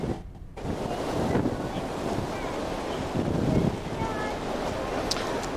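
Outdoors at a college, heavy wind buffets the microphone in a constant low roar, rumbling and gusting throughout with no break.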